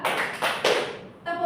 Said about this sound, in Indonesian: Ice breakingnya tepuk satu. Kalau ibu bilang tepuk satu, tepuk dua,